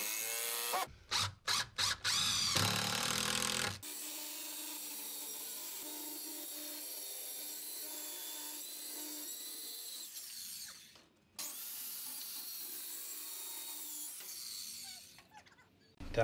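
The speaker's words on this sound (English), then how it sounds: "We're just screwing in so that it doesn't move the feet out." Screws being driven into wood pieces for a workbench with a power driver: short bursts of whirring, then a long sustained drive that pauses briefly and resumes, close and loud.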